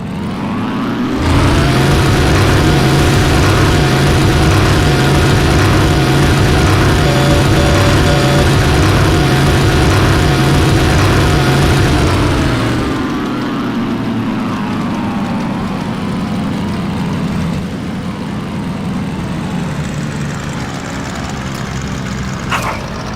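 A WWII fighter plane engine drones loud and steady while coming in to land in Heroes of the Pacific over the Philippines, then the roar cuts down around midway and fades to a lower, rougher hum.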